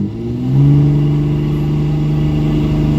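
A Cummins diesel truck with a 48RE transmission pulls hard at wide open throttle, a loud, steady engine drone holding close and constant with a slight rise at the start and no talk over it.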